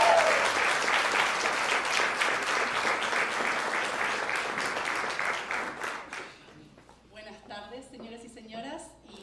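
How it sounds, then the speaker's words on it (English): Audience at a women's business luncheon held by a Hispanic chamber of commerce in New York, applauding warmly and steadily for several seconds before the clapping thins out and fades. "So please, please join me in giving another round of applause to our woman in business leadership, Eileen Gusso."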